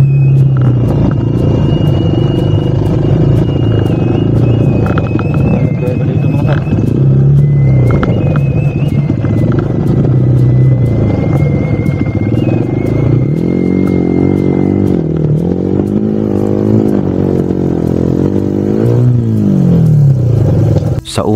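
Motorcycle engine straining up a steep, sandy back road near Palayan City, Nueva Ecija: a loud, continuous low rumble that labors and wavers in pitch throughout, with someone talking over it.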